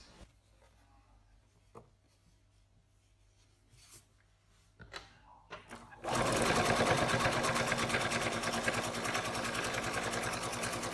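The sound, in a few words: sewing machine stitching a pocket seam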